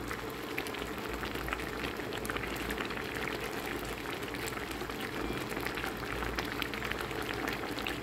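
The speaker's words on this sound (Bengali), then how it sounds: "করলাটা সেদ্ধ হওয়া পর্যন্ত ডালটা রান্না করে দেব, যাতে করলাটা সেদ্ধ হয়ে যায়" A pot of masoor dal with bitter gourd bubbles at a steady boil, a dense, even gurgling and popping that holds constant from start to finish, with no voices.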